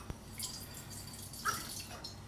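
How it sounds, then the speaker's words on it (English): Water poured into a bowl during brunch prep, heard as light drips and small splashes with a brief clearer trickle near the middle, fairly quiet and close. "The next bit of prep we're going to do is just stick a bit of water in this bowl."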